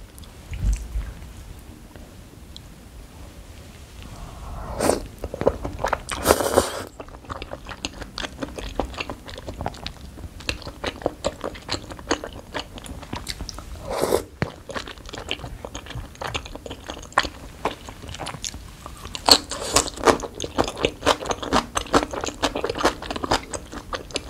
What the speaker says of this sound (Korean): 진짜 바삭거리고 치킨에 약간 기름진 부분이 살짝 붙어있어서 감칠맛이 쩔어요.